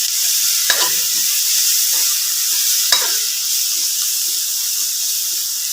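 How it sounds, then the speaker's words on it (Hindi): Spices such as coriander powder, turmeric, crushed red chilli and garam masala being stirred into a frying ragda mixture with tomatoes, a continuous hiss of sizzling broken by two sharp clinks of a spoon against the pan. "इन सारी चीज़ों को अच्छे से मिक्स कर देंगे।"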